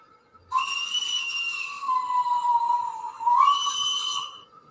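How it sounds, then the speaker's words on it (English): A model train's whistle sounds in one long, steady, shrill tone for about four seconds, briefly wavering in pitch near the end, close and clear against an otherwise quiet room. "Let's have a whistle."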